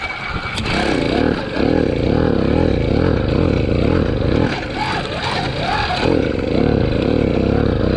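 A motorized bicycle's small engine with new jets revs in waves as the throttle is opened and closed, a loud, buzzing, motorcycle-like drone rising and falling repeatedly at close range.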